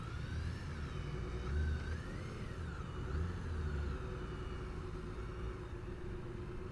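A BMW K1600B motorcycle's six-cylinder engine runs steadily close by, a dense low rumble with a faint rising and falling whine layered over it, no voices.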